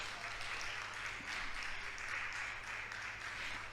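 A crowd applauding steadily at a Spanish-language church service, a dense wash of many hands clapping at once, sustained and fairly loud without pause.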